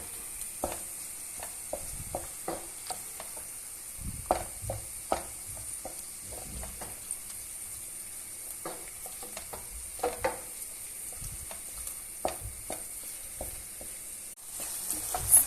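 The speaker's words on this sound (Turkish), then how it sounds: "Yarım kaşık da domates salçası kullanmak isterseniz. İyice salçamızı da kavuralım." Tomato paste fries softly in a pot for bulgur pilaf, with a low sizzle under repeated spoon scrapes and knocks at an irregular rhythm, close by and without speech.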